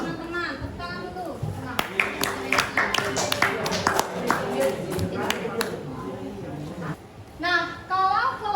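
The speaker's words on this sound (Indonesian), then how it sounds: "Tepuk tangan dulu." Classroom students clap their hands together, a burst of sharp, uneven claps near and moderately loud, while a teacher and children talk around it.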